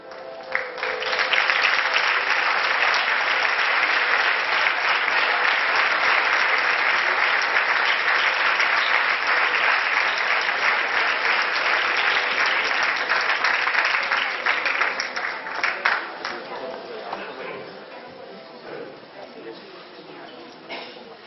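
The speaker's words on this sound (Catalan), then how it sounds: "Donem un fort aplaudiment al mantenidor de la nostra fallera major infantil." Audience at a Valencian fallas presentation ceremony giving a loud, sustained round of applause, dense clapping that holds steady for about fifteen seconds before thinning and fading out.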